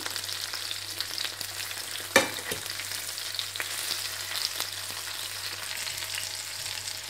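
Tandoori fish frying in a pan, a steady dense sizzle that goes on throughout, with one sharp clink near the start and no talk.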